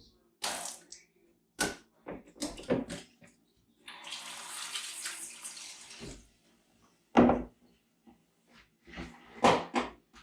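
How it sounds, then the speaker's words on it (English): Tap water running into a pot of rice for Spanish rice, a steady two-second gush amid clunks and handling knocks in a kitchen, with intermittent talking around it. "And then cover the rest with water."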